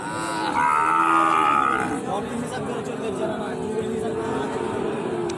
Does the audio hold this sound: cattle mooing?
yes